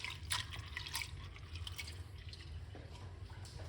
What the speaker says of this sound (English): we're going to wash off the pumpkin seeds